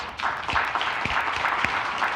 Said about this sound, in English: one more round of applause for our winners